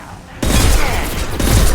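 Gunfire from the video game Mass Effect 2, played on Insanity with a Vanguard build: after a brief quiet lead-in, a loud burst of shots erupts and continues as a dense, rumbling fusillade.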